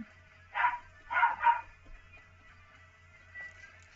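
A dog named Ricky barks indoors, one sharp bark and then two more in quick succession, close and fairly loud, over a faint steady room hum.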